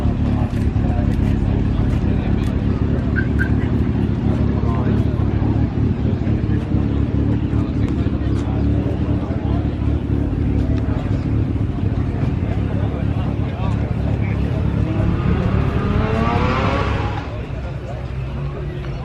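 A boosted coupe's engine drones and rumbles loudly at a crowded car meet, steady and close with crowd babble around it, then swells into a brief rising rev near the end before the noise drops slightly.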